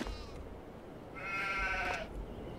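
A sheep in a pen bleats once in Farming Simulator 22, a single wavering, drawn-out call lasting under a second, fairly quiet over a soft, low ambient hum.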